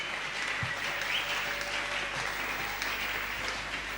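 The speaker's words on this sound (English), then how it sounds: "Everyone is going to applaud for his God." Church congregation applauding throughout, a steady dense wash of clapping at moderate loudness with no break and no speech over it.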